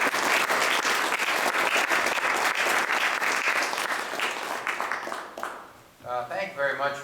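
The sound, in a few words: audience applause at a legislative briefing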